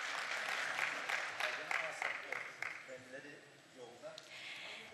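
Audience applause at a Turkish university IT congress protocol session, greeting the Gazi University rector; a scattered crowd claps moderately loud for several seconds and thins out toward the end.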